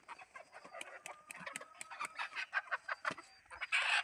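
Pure gavran (desi country) chicks packed for delivery cheep and cluck in a busy, overlapping chorus of short calls, close and continuous throughout, with no talking.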